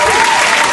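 A brief burst of loud, dense applause from a crowd clapping together.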